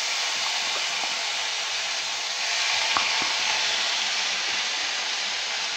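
Turmeric and ginger-onion-garlic paste sauté in a pan of hot oil, giving a steady broad sizzle throughout, with a few faint clicks of stirring.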